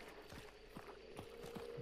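Horse hooves clip-clop in the game Hunt: Showdown, a few faint, evenly spaced thuds of a walking horse over quiet background ambience.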